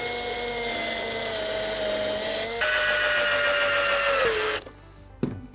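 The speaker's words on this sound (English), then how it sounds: "So I'll drill a couple of pallet holes in here again." A power drill bores holes in pallet wood while building a child's mud kitchen. Its steady, close whine jumps higher partway through, then cuts off, followed by a brief knock.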